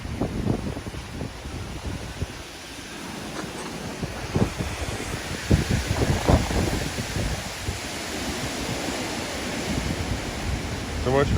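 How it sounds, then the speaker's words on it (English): Wind blows steadily across an outdoor homestead, a broad rushing roar with gusts and microphone buffeting throughout. "little windy out here."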